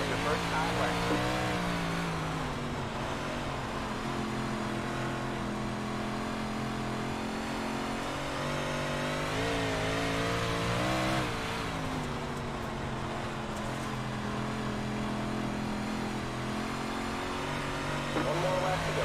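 Big block modified race cars roar off after the green flag, their engines droning loud and steady with rising and falling revs. Someone talks over the noise throughout.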